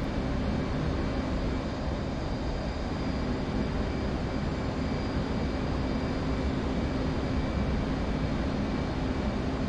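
Jet aircraft engines roar steadily in a DCS World flight simulation with many planes around, a dense, continuous broadband drone holding constant loudness throughout with no voices.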